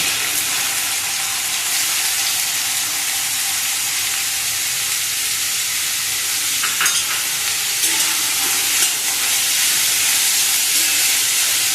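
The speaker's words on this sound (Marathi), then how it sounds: "कांदा चांगला लालसर होईपर्यंत फ्राय करून घ्यायचा" Finely chopped onion frying in oil for egg bhurji, a loud continuous sizzle and hiss, with a few brief stirring scrapes partway through.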